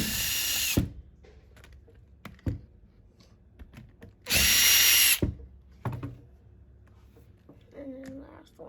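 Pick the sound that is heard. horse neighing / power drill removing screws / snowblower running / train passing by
power drill removing screws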